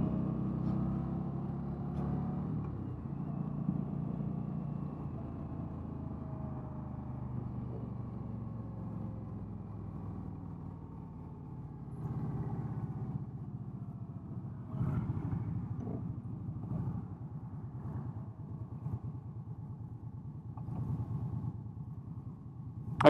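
An Indian Scout motorcycle on a test ride, its engine rumbling low and steady while it slows down a hill, with fluctuating engine tones and some wind buffeting, with no voices.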